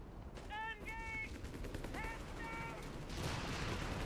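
Gunfire in the Company of Heroes 3 strategy game rattles in quick bursts amid battle noise and horn-like tones, with a caster talking over the combat.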